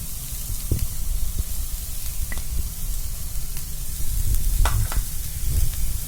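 Carrot and cabbage stir-fried in a pan over a high gas flame, with a steady hiss and sizzle and a few scraping stir sounds, up close and without talk.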